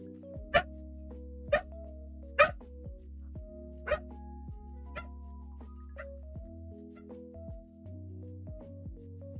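A pet dog whimpering and whining indoors near a window, with several sharp yips or barks in the first few seconds over a steady background music bed, then softer whines fading out.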